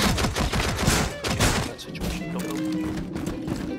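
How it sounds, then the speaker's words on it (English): Gunfire from a Rainbow Six Siege gunfight: dense rapid bursts of shots and impacts crowd the first half, then thinner scattered shots over a busy game background, loud and chaotic. "That doesn't sound like a very fair gunfight, Michael."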